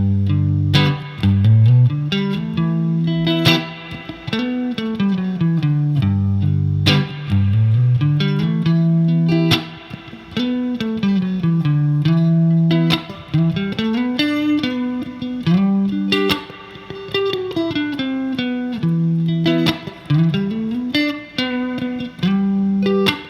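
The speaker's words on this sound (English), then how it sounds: "this is basically just one octave of the major scale and the minor scale and a couple chord voicings" A one-octave major scale then minor scale with a few chord voicings, played on an effects-processed guitar with light distortion and chorus, notes stepping up and down in a steady line with sustained chords between, loud and close.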